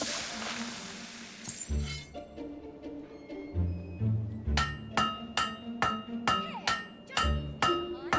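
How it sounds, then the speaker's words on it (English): A hammer strikes a blade at a forge in the Fable 3 game, a run of bright, ringing metallic clangs at a steady rhythm, loud and close, with low musical tones and an earlier hissing burst. "Keep hitting it like that."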